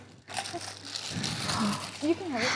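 Crinkling and crunching of a plastic Ziploc bag being handled up close, with excited voices talking over it.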